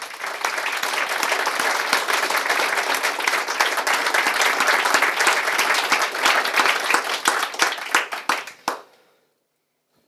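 Enthusiastic audience applause for a retiring treasurer after a French speech, loud dense clapping sustained for about eight seconds before stopping abruptly into silence.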